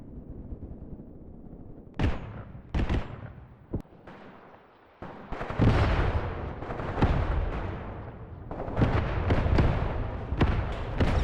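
Mortar and artillery fire in the tactical war game Graviteam Tactics, sharp booming launches at irregular intervals, some isolated and others clustered, with rolling rumble and distant explosions lingering between shots.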